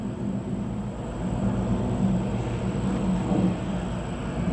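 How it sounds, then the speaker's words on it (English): An airplane flies over a walking trail, a steady distant low rumble that swells slightly and holds throughout with no talk. "I hear another plane."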